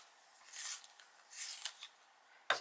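Soft scraping rasps of a coloured pencil being sharpened in a few short bursts, quiet and close, ending in a sharper click.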